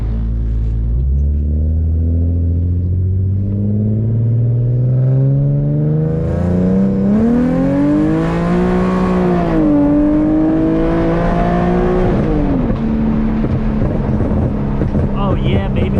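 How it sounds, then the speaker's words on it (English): An Infiniti G37 with aftermarket mods pulls away and revs, its engine note climbing steadily through the gears, loud and close from inside the cabin with a steady low rumble underneath. "Now I'm gonna start driving home now."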